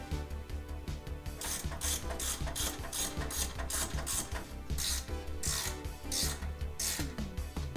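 Ratchet clicking in repeated bursts as bolts are tightened during reinstallation of brake parts, rotor and wheel bearing on a 1991 Pontiac Trans Am, close and steady with no talking.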